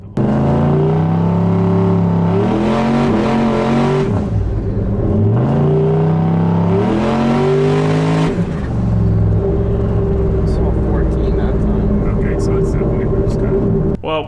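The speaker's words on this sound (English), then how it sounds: "we still haven't done a good burnout, so we had to get one of those in, even though it was boost cutting" A turbocharged LS-engined truck doing a burnout roars loudly in repeated climbing revs that stall and drop as it hits the boost cut, then settles into a rough, rumbling engine drone with faint chirps.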